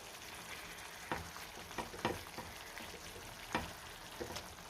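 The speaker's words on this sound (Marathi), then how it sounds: "आता हे अंड आपल्याला पलटून घ्यायचं आहे" Eggs frying in a pan while being turned over for dum anda masala, a steady close sizzle broken by several sharp scraping knocks of the spatula, with no talking.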